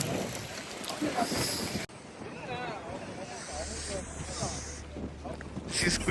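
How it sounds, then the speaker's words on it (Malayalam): Strong wind gusts on an open hilltop roar and buffet the microphone in a steady, close rush, with faint voices now and then. "നല്ല കാറ്റ്."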